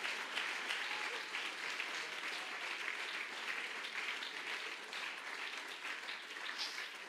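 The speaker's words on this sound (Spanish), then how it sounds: "Alguien que quiera aplaudir al Señor de verdad," A church congregation applauds in a continuous, even wash of many hands clapping together, steady from start to finish and heard from some distance within the room.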